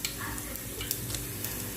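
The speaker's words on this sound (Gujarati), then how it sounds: "આપણે તેલ મૂકી દીધું છે અને હવે તેલ આવી ગયું છે અને હવે રાઈ નાખવાની છે" Mustard seeds sizzle in hot oil: a short, soft crackle over a low background hum, close by and fairly quiet.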